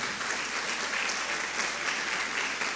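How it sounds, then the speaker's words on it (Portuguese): A church congregation claps loudly and steadily in dense, continuous applause filling the room. "Aplauda ele bem forte então."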